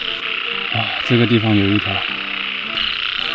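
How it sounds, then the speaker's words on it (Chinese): Frogs croak in a night-time rice paddy, a burst of rapid harmonic calls in the middle over steady high insect buzz, with someone speaking briefly. "你们听这个青蛙叫"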